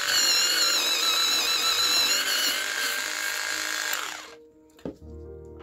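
A Deli electric pencil sharpener grinds Derwent coloured pencils with a bright, steady buzzing whine that stays loud and close for about four seconds, then cuts off, followed by a brief click and quiet hum.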